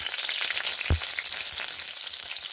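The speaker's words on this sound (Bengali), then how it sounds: "তেল গরম হয়ে গেছে, কাঁচা লঙ্কা দিলাম, আর এর সঙ্গে দিয়ে নেব কালো জিরে।" Green chilies and black cumin seeds frying in hot oil in a home kitchen, a close, continuous crackling sizzle with a single soft knock partway through and no talking.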